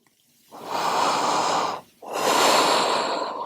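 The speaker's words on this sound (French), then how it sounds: "Essaie de retrouver une respiration un petit peu plus fluide." Two long, deep breaths taken during a heart-opening vinyasa yoga flow, each a steady, close, airy hiss lasting over a second, separated by a brief pause.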